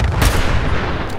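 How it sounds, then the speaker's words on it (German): Gunfire and explosions from the game Fallout 4 ring out in a loud burst, with a sharp heavy blast near the start followed by rumbling, dense combat noise and another crack at the end. "Das sind einfach viel zu viele Explosionen hier auf einen Haufen."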